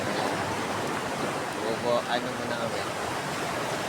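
Surf washing onto a beach at Patar, Bolinao, Pangasinan, a steady broadband wash running throughout, with a brief swell near the middle and people talking over it.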